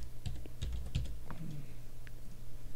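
Typing on a computer keyboard in a few quick bursts of close, crisp key clicks with short pauses between, set against a low steady room hum.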